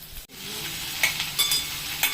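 Chopped raw green mango tipped into a hot pan with garlic, giving a steady sizzle with a few scraping stirs and brief bright clinks near the end, close and alone.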